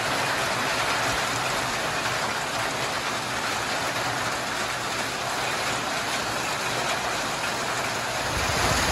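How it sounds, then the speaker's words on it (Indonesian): Dense, steady downpour hissing continuously, loud and close, with a low rumble underneath and no voices. "Hujannya makin lama makin tambah deras."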